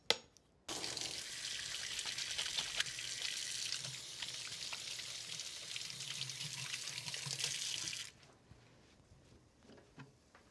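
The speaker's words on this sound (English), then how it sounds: "And then just go ahead and wash your hands." A kitchen tap runs into a sink for hand washing while bacon cooks in a pan. The water gives a steady, close rush for about seven seconds, then stops abruptly, leaving faint kitchen sounds.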